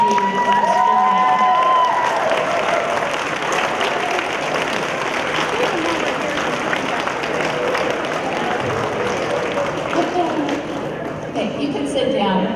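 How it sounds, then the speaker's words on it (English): Graduation-ceremony audience at a nursing commencement applauding families and supporters, a dense sustained wash of clapping and crowd cheering filling the hall for the whole stretch, steady and loud with scattered shouts mixed in. "give them the round of applause for all that they've done for you in this journey"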